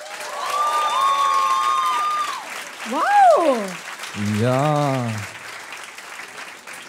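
Audience applause and cheering at a live comedy premiere show in a venue called Waschsalon, a burst of crowd noise beneath voices, with people talking and exclaiming over it.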